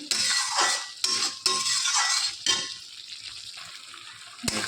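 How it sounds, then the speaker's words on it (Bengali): Fried pointed gourd stirred back into a pan, a spoon scraping and clinking against the metal in several bursts over a soft sizzle, fairly close and with no one talking. "এবার ভেজে রাখা পটলগুলোকেও আমি দিয়ে দিচ্ছি, দিয়ে নেড়ে চেড়ে মিশিয়ে নেব।"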